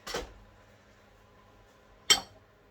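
Two sharp metallic clinks about two seconds apart as a whisk is set aside and a spatula picked up in a mixing bowl of spiced carrot cake batter, close and clear with quiet in between.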